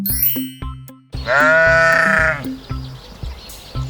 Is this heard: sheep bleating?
yes